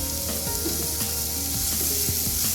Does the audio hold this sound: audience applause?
no